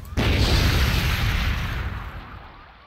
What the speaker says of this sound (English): Let's pull back a little bit. And watch the fireworks.